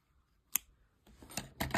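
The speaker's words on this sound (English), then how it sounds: "you can cut the remaining yarn" Scissors snipping leftover yarn after crocheting a sphere: one crisp close snip, then a few fainter rustling cuts and handling noises, quiet with no talk.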